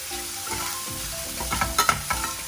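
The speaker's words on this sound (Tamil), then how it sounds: "நல்லா வதக்கி விட்டுக்க போகிறோம். ஃப்ளேம் ஹையில் வச்சுட்டே வதக்கிக்கோங்க." Chopped onions sautéed over a high flame in a pan for chilli idli, giving a dense, close hiss of sizzling oil with a few louder scraping stirs toward the end and no talking.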